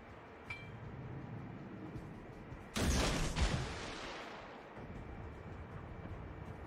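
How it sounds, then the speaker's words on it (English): Torpedoes launched from a Shiratsuyu destroyer in the naval battle game World of Warships: a sudden loud whooshing burst that decays over a couple of seconds over a constant engine and sea rumble. "I'm dumping torpedoes toward the next to the island so it could go through to the back"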